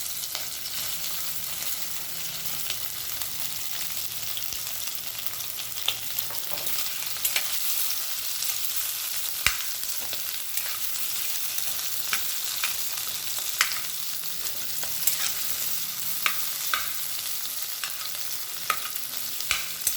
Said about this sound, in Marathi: आता बटाटे घालूया बटाटे उकडून घेतलेले आहेत